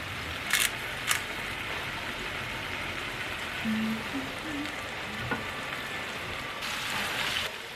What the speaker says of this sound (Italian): Ho messo a soffriggere la carne con un po' di peperoni e la cipolla.